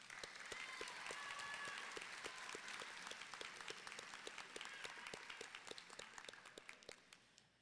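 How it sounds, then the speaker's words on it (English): Graduation ceremony crowd applauding the high school class of 2025, a dense clapping wash that thins out over several seconds into scattered individual claps, with faint voices and a low hum beneath. "Can we get a round of applause for them?"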